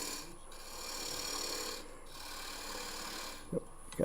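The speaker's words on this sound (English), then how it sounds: "Cutting the tenon." A wood lathe tool plunges into spinning wood to cut a tenon during thin turning, giving a steady close scraping rasp that swells and eases, with a couple of brief knocks near the end.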